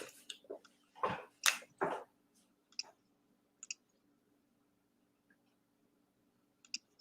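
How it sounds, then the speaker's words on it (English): Someone types on a quiet computer keyboard, producing a quick burst of soft, close clicks followed by a few scattered, faint taps separated by near silence. "Look at that quiet keyboard JT has"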